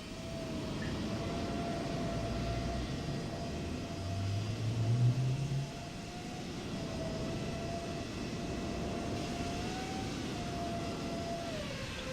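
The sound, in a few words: PMDG Boeing 777-200ER engine starting, video game Microsoft Flight Simulator 2024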